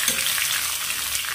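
Sweet-and-sour mango sabzi with cumin, fenugreek seeds and whole coriander being stirred in a hot pan, a steady close sizzle of frying throughout with no voices.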